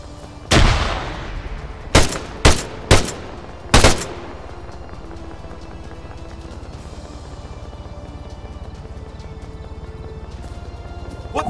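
Gunfire in the military shooter ARMA III: a sharp opening shot, then a cluster of three or four loud close bursts in quick succession, followed by a long low rumbling battlefield ambience without further distinct shots.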